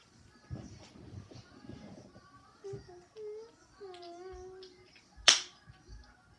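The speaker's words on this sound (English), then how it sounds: "That was a loud pop." Slime being squished and played with lets out a single sharp, loud pop near the end, after soft squelching and a voice talking quietly in the background.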